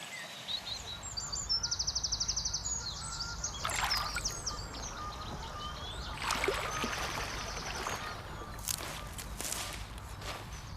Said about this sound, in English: I've got willow warblers singing up above me